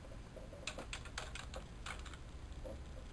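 Quiet keystrokes on a computer keyboard while a password is entered: a quick run of about a dozen soft, close clicks over a low, steady background hum.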